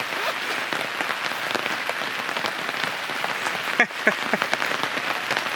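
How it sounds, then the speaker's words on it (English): Heavy rain pours onto a camping gazebo on Vancouver Island, a dense, steady patter of drops drumming the canopy, close and continuous with no talk. "You can actually hear it getting louder right now with what's coming down onto the gazebo."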